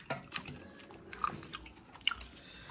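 Someone chews a mouthful of cauliflower curry close up, with quiet wet chewing and several soft, crunchy bites spread through a short stretch, and no talking.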